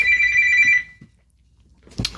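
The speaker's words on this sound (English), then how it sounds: "Sorry, my wife's phone is ringing." A mobile phone rings indoors with a bright, steady electronic ringtone for under a second, then cuts out, leaving near silence until a short, loud rustle or knock at the end.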